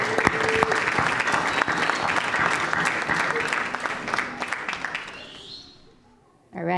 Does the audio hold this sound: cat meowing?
no